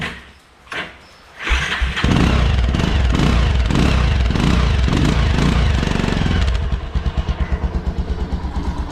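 A Hero Splendor motorcycle fitted with a DB killer on its exhaust starts up, then revs in loud repeated bursts before settling into a steady, pulsing idle close to the microphone.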